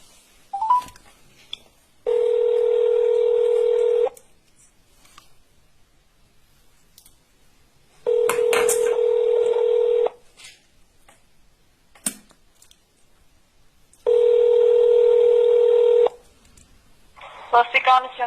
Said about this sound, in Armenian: Զանգում եմ 102-ը